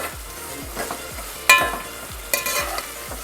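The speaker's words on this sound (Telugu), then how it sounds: "ఫస్ట్ నూనె బాగా కాగిన తర్వాత ఎండు రొయ్యలు వేసి వేపండి బాగా." Dried prawns fry in well-heated oil in a village-style kitchen, a steady close sizzle broken by a run of quick scraping stirs and two louder clattering scrapes, with no voices.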